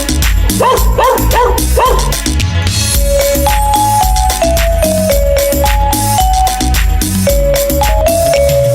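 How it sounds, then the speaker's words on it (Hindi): Yipping dog barks woven into a loud Hindi children's song, the barks coming in a quick rhythmic run near the start before a melodic synth line carries on over a steady beat. "मुझे कुत्ते ने जगाया, बोला भाऊ भाऊ भाऊ"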